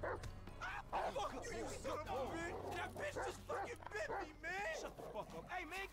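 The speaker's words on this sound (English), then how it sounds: "Scared of dogs" A dog in Grand Theft Auto V barks, yips and whimpers in close, repeated bursts, mixed with other game sounds and voices.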